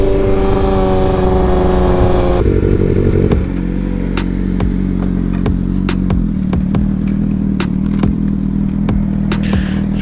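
A red and black 2011 Kawasaki ZX6R motorcycle engine revs loud and close, then settles into a steady rumbling idle. Sharp clicks and clatter punctuate it.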